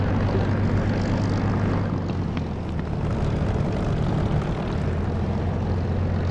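Aircraft taxiing in the DCS flight simulator, a continuous loud engine drone with a steady low hum and broadband roar, constant throughout without any voices.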